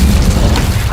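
Incendio fire spell cast in the Hogwarts Legacy video game, a loud booming burst of flame that fills the whole second at close range with no talk over it.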